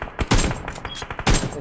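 Loud gunshots in the mobile battle royale game BGMI land a headshot: two heavy cracks about a second apart with fainter shots between them, close and punchy.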